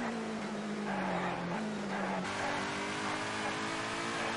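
A Jaguar touring car in British Racing Green, raced in the TOCA 2 video game, holds a loud, continuous engine drone whose pitch shifts as it revs up and drops back between gears.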